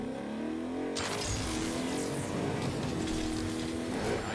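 A car engine in the Agents of Mayhem video game bursts in after a quiet second and revs hard, its rising engine tone holding steady and loud to the end.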